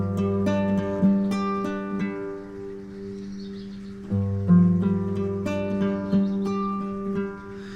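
A guitar riff is fingerpicked slowly, the thumb plucking bass strings under higher notes. The plucks are spaced and deliberate and ring out close and alone over several seconds.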